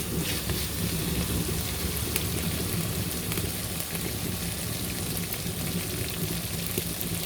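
Onion-style mixture sautéing in a pan for a Kottayam-style mackerel curry gives a dense, continuous crackling sizzle, loud and steady throughout with no pauses and no talking.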